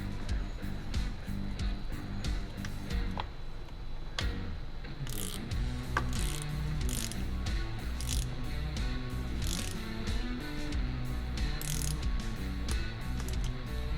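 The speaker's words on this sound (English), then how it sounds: "we're going to use our torque wrench again to torque that down to 8 Newton meters" A torque wrench tightening a bicycle bolt to a set torque, giving a steady run of ratcheting mechanical clicks that sounds close and fairly loud against a busy background.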